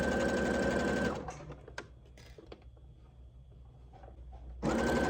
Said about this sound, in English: you're going to top stitch around the entire bottom of the skirt to finish your hem